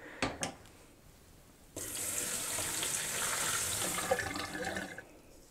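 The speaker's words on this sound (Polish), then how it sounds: "Należy teraz osączyć go z tej wody." Water pours and drains off poppy seeds soaked overnight, strained through a mesh vegetable bag; a couple of soft knocks come first, then a steady splashing rush that holds for about three seconds before cutting off.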